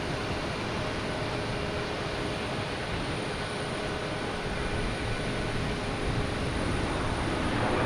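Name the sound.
Delta Boeing 737-800 landing at Boston Logan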